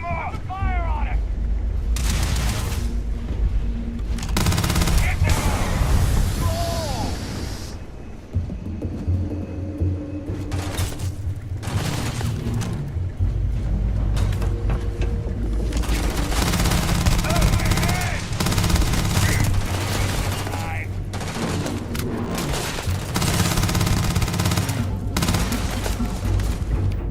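Gunfire in the sci-fi game Starfield crackles in bursts and volleys with booming impacts, loud and close, interleaved with shouting voices and brief quieter gaps.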